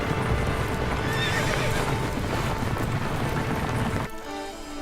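Small, pony-sized chariot horses without horseshoes gallop in a dense, loud rush of hoofbeats with neighing and wind, a thundering clatter that drops off abruptly near the end.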